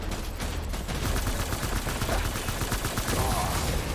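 Rapid gunfire in the video game Death Stranding, a dense continuous burst of shots throughout, loud and close, with no talk over it.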